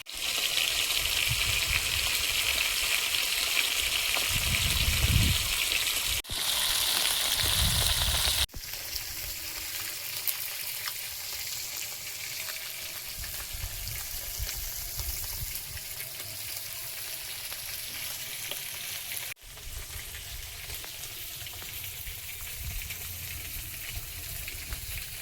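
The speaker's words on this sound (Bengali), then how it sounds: "আমি মাছগুলো একটু উলট পালট করে ভেজে নিচ্ছি।" Pieces of rui fish frying in hot oil in a pan as they are turned over, a continuous crackling sizzle with brief clinks and short breaks where the sound drops out.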